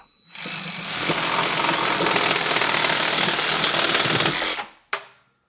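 A wooden staff is cut across its end at an angle, a loud steady buzzing saw run lasting about four seconds, then stopping abruptly, followed by a brief clack.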